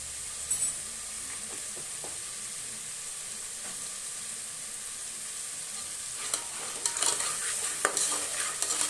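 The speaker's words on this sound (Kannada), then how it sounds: "ನಾವು ಒಗ್ಗರಣೆನೇ ನಾವು ಒಂದು ಸ್ವಲ್ಪ ಫ್ರೈ ಮಾಡ್ಕೊಬೇಕಾಗುತ್ತೆ" Tempering sizzling in hot oil for an avarebele mutton sambar, a steady bright frying hiss throughout with a few crackles and stirring clatters that grow busier near the end.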